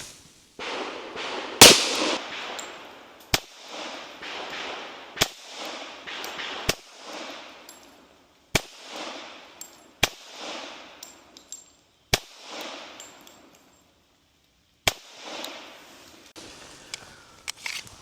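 Gunshots from a Tisas Raider 1911 pistol at an outdoor range, fired at 10 yards: about eight sharp, loud reports spaced a second or two apart, each followed by a short ringing echo, with no voices.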